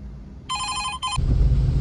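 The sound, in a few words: phone ringing with incoming call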